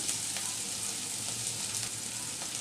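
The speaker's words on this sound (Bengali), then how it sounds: "আমি দুই চা চামচের মতো তেল দিলাম এবার অল্প পরিমাণে পেঁয়াজ দুইটা কাঁচামরিচ কুচি" Chopped onion and two green chilies sizzle steadily in about two teaspoons of oil for a chicken paratha filling, a dense, even crackle that is close and constant throughout, with no talking.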